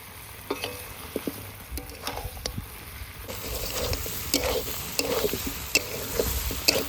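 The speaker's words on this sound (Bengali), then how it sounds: "কষানো তো কমপ্লিট মাংস কষানো হয়ে গেছে" Meat and new potatoes fry in a pot at a village picnic, a steady sizzle broken by repeated sharp scraping stirs of a spoon, the frying growing louder and brighter halfway through.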